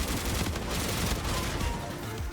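A sniper rifle in a Call of Duty game fires in rapid automatic bursts like an assault rifle, a steady loud crackle of shots with no pause and no talking.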